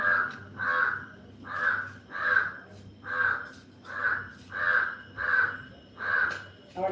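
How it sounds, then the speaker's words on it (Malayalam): Crows caw outdoors in a steady, evenly spaced series of about nine loud, harsh calls, fairly close, with no other sounds competing. "പോയാലും ഇവിടെ പോയാലും കാക്ക തന്നെ കേട്ടോ"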